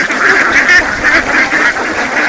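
Flock of farm-raised ducks quacking together while pecking at scattered feed, a close, dense chorus of overlapping nasal calls with no pauses.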